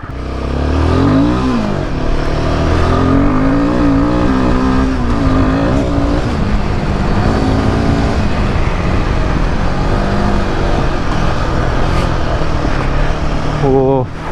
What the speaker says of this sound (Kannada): ಒಂದು ಥ್ರಾಟಲ್ ಕೊಡ್ತೀನಿ